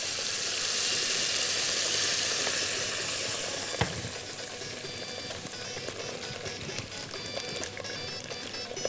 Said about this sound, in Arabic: حطينا كزبره مع التومه في شويه زيت سندباد